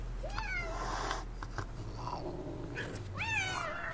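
Several cats yowl and meow around four in the morning, rising and falling wails that come in bursts with gaps between them, fairly close.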